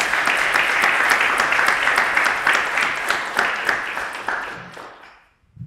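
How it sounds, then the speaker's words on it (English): Conference attendees applaud prize winners in a steady round of clapping that holds for several seconds, then thins out and dies away to near silence. "So please clap your hands."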